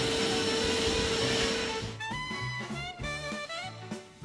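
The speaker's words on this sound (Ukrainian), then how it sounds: "Після шліфовки прибираю все пилососом." A vacuum cleaner tidies up sanding dust from an old bed, its motor giving a whining, breathy drone for about two seconds before music takes over.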